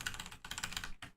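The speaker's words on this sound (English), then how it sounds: "I learned recently I could do this with the keyboard." Fast, close typing on a computer keyboard while editing a level, a dense run of light clicks with a brief gap and a final short flurry.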